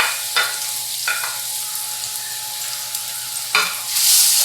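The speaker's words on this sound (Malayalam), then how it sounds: "നമുക്ക് അരിഞ്ഞു വെച്ചിരിക്കുന്ന പഴം കൂടി ഇട്ട് കൊടുക്കാം" Chopped ripe banana is sautéed with cashews and raisins in a hot pan, a steady sizzle broken by several scraping stir strokes, rising to a louder hiss at the end.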